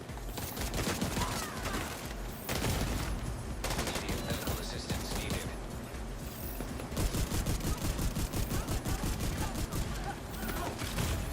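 Rapid battle rifle fire in The Division 2, dense repeated bursts of gunshots filling the scene with only brief gaps, loud and close throughout.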